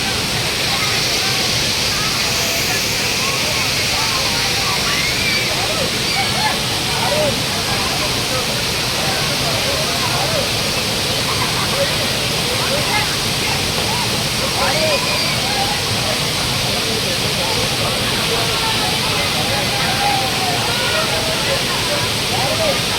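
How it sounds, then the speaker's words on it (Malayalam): Arikkal waterfall roars in a loud, constant wash of falling and splashing water that runs for over twenty seconds, with faint voices occasionally audible beneath the rush. "വെള്ളച്ചാട്ടം കണ്ടുകൊണ്ടിരിക്കുക"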